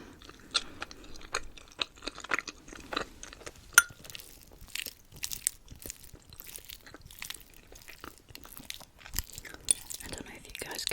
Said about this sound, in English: I love the sound that pasta makes.